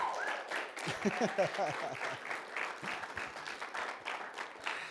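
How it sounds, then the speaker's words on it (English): A TEDx audience breaks into steady applause for a speaker arriving on stage, a dense, close wash of clapping lasting throughout, with a brief voice near the start. "can we give Ben a round of applause for making the TEDx stage?"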